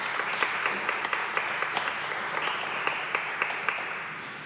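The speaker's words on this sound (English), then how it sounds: "Can we get a round of applause for our veterans?" A room of people applauding veterans at an evening event, steady dense clapping throughout with a few sharper claps standing out, gradually tapering at the end.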